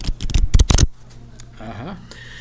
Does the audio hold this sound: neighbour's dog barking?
no